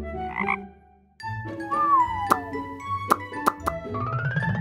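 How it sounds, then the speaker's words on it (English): A frog croaks in a children's animal show, a short series of loud, close croaks alone over a bed of sustained tones. "Frog."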